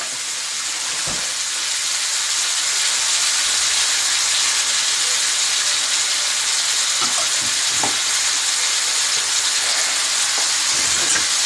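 Garlic, tomato and cilantro sauté in a hot pan with a loud, steady sizzle and crackle, close up, with a few faint utensil knocks and no voices.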